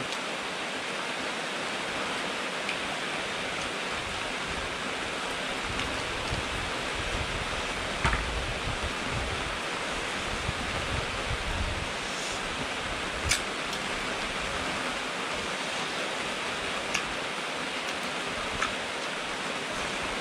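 Steady rain falls continuously as a dense, even hiss throughout, with a few faint clicks and taps scattered over it and no voices.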